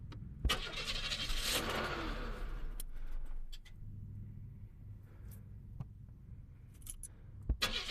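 A car engine cold-starts at a transport lot: a click and clatter, then a cranking burst that catches into a low idle rumble, with sharp clicks and knocks around it.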